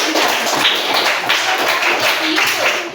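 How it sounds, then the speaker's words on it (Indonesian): A classroom group claps for a student named Alvaro during a lesson on coding and artificial intelligence, a close, loud burst of brisk hand claps and taps running throughout. "tepuk tangan untuk Alvaro dulu"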